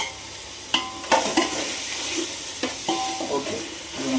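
Mint and coriander leaves being sautéed and stirred in a pan for mushroom biryani, with a steady soft sizzle broken by a few sharp spoon scrapes and stirring clatters close by.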